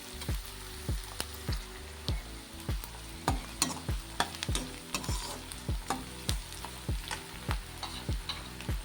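Onions and a few slit green chillies fry in a pan, a soft steady sizzle punctuated by regular scraping strokes of a spatula, close and moderately quiet with no talk.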